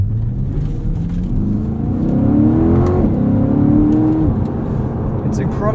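A car accelerating hard on a wet road in 34-degree weather on all-season tires, its engine note climbing loudly and smoothly through the revs, close and continuous.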